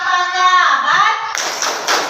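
Children in a classroom chanting a clap rhythm, a short sung voice line followed by a few sharp, closely spaced group claps, near and fairly loud.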